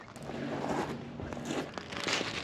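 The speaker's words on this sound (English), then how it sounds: "The noise you can hear below my feet is loads of sea glass" Footsteps crunch over loose sea glass on the Thames foreshore, a faint, close, irregular gritty scrunching with small clinks over a couple of seconds.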